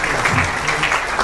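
Audience applause at a Haitian official gathering, a steady wash of clapping from a crowd that continues evenly for the whole short moment.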